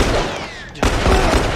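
Enemies firing on the player in The Last of Us: a dense, loud burst of gunfire-like cracks and impacts with a sudden sharp onset partway through, under a busy game soundscape.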